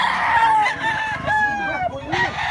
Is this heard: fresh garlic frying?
no